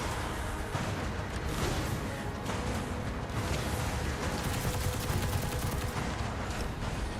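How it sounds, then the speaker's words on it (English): An SMG fires continuously in a video game, a dense, loud stream of overlapping shots and impacts with no break across the whole stretch. "Because you can just keep unloading with this SMG."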